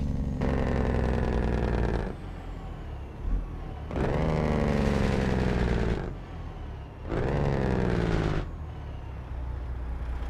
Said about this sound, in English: Sounds like an angry truck.